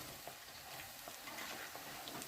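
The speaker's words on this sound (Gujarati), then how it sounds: "તો આપણે બધી અત્યારે આ ગાંઠિયા છે બધા તળી નાખીએ." Gathiya, a fried gram-flour snack, sizzles in hot oil in a home kitchen as part of making laddoos. It makes a faint, steady crackling hiss with no talk.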